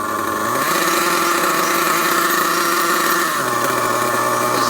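Dynamite DYN.28 nitro engine in an RC car idling steadily, a high, buzzy two-stroke drone running rich, close and loud with a slight drop in pitch near the end.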